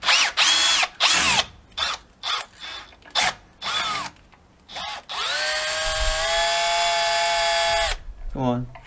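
A power drill whirs in several short bursts, then runs steadily for about three seconds before winding down, close up, unscrewing hammer fittings.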